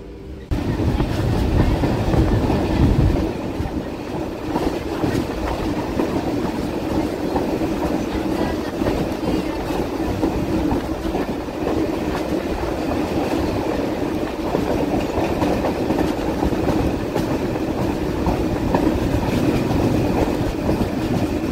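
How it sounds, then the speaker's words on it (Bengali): Bongaon local train running on the tracks between Ranaghat and Gopalnagar, heard from inside: a steady loud rumble with rhythmic wheel clatter and rattling carriages that continues throughout. "রানাঘাটে এলো বনগা ট্রেনটা আর এসে ছাড়লো এটা 9:45-র সময়।"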